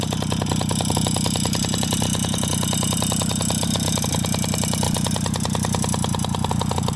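Small dirt bike engine idling steadily and close by, a rapid even putter that holds at a constant loud level throughout, with no talking.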